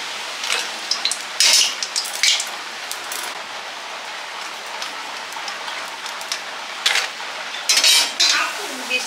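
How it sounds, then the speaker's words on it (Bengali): Papad fries in a pan with a continuous crackling hiss. Loud metallic clinks of utensils and pan come in bursts over it, and rain is heard during a cyclone. "একটু পাঁপড় ভেজে নেওয়া হচ্ছে"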